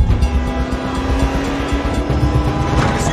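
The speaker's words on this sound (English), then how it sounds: "You're really racing this fucking train" Loud, steady roar of a car being driven hard alongside a passing train, a continuous rumbling drone with a faint tonal hum and no talk.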